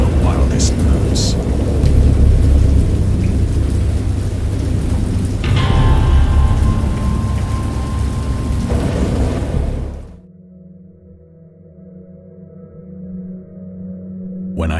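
A thunderstorm with heavy rain rages in the Dagon VR video game, a dense roar of downpour with rumbling thunder. After about ten seconds it cuts to a much quieter low ambient hum.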